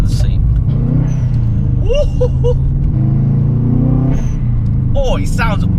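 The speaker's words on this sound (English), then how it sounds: "Oh, nice little bang there as well when we changed gear." A loud modified 2000 Subaru Impreza engine rumbles and revs up close, with a sharp bang as the gear changes and faint voices over the engine noise.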